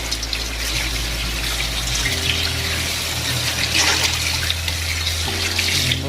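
Tap water running steadily while an octopus is washed in a home kitchen, a continuous gushing splash with a low pump-like hum, close and loud with no talk.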